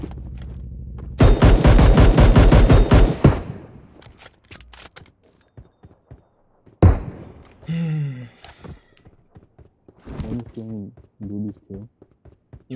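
Gunfire in PUBG Mobile: a loud rapid automatic burst, then scattered single shots and short bursts, with several people talking over the shooting.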